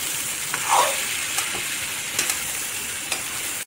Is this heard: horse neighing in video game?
no